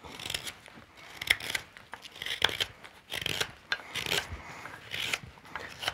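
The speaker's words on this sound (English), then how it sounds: "I'm slightly taking out the hook knife a little, so I can reach that point in the back there and have it to cut" A hook knife carving wood makes repeated close rasping, scraping strokes of uneven length, with short pauses between the cuts.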